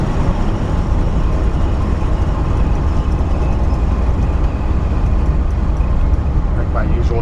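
A 1954 Ford F100 pickup truck cruises along a road, its engine and road rumble forming a steady, loud, low drone from inside the cab with no break throughout.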